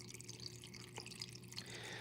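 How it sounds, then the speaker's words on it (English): A small tabletop Chinese waterfall fountain trickles softly, with faint steady dripping and a gentle patter of water falling into its basin, close and quiet, with no talking. "I brought my Chinese waterfall with me"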